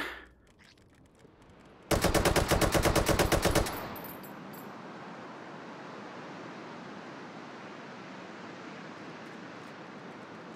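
Rapid automatic RPK machine gun fire in the VR shooter Hot Dogs, Horseshoes & Hand Grenades: a loud, steady burst of about two seconds with evenly spaced shots, followed by a long, hissing, surf-like ambient wash.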